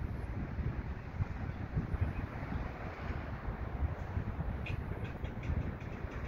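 A freight train moving slowly through a rail yard at the Port of Montreal, a steady low rumble and rolling noise in the distance under wind, with no voices.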